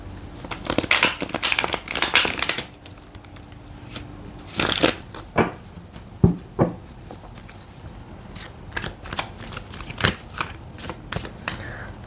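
A deck of tarot cards being shuffled up close, bursts of riffling and papery slaps in irregular clusters with short pauses between them, crisp and fairly loud, no talking.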